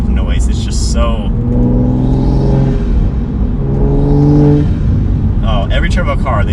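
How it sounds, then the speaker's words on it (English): A straight-piped Toyota A90 Supra makes two turbocharged acceleration pulls in a row, each a swelling raspy engine drone that rises and falls back, with someone speaking at the start and end. "when you hear the boost, you can totally hear just the induction noise"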